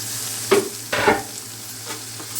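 Chopped tomato drops into a hot frying pan of brinjal and prawn curry, giving two quick sizzling, scraping bursts close up, then a few lighter stirs with no voices.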